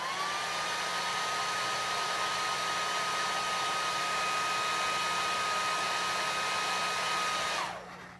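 A hair dryer runs loud and constant while drying paint on a craft project, its whirring hum steady throughout before it winds down and stops at the very end.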